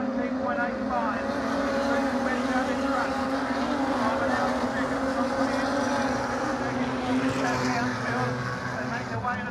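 Wingless sprint cars race at Bunbury Speedway, a dense and steady engine roar that fills the whole stretch while a race commentator talks over it.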